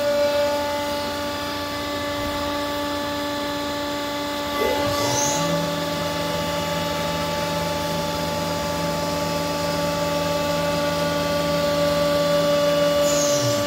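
A Ceratizit WNT 28XD 3.3mm deep hole drill runs through a row of holes in a machine, giving a steady, sustained whine with a low hum that settles in partway through and holds evenly, with no talk.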